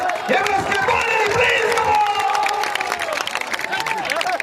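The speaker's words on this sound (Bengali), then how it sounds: "করতালির আওয়াজ" Audience at a cricket tournament ground clapping and cheering as a guest is honored, a dense crowd roar with shouts and applause sustained throughout, loud and close.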